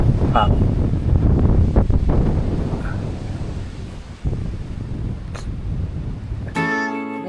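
Strong wind buffets the microphone with a steady low roar and gusty rumble at a mountain campsite on Mt. Banoy, ending in a brief burst of tonal noise.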